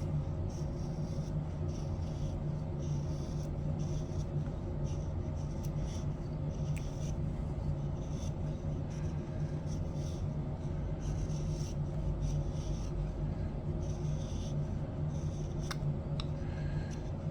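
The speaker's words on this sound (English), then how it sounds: "you still need to shave these factory edges off" A knife shaves the factory edges off a wooden rolling pin being carved, giving steady, close scraping and rasping strokes that run continuously without pause, with no talking over them.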